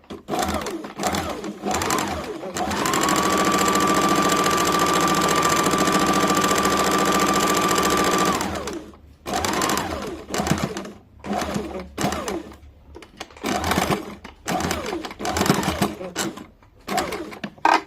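A sewing machine runs in a steady whirring burst for several seconds while a kurti sleeve is stitched, then stops, with short bursts of talk and handling noise afterward.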